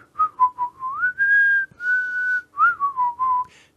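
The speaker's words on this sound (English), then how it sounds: "And my whistling" A person whistles a short melody alone, clear and close, with gliding pitch bends and brief pauses between phrases.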